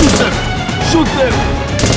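Gunfire during a police chase in a first-person parkour action scene, loud sharp cracks scattered across a dense, busy background with music and shouting voices.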